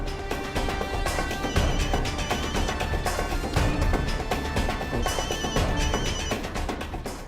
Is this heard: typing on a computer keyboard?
no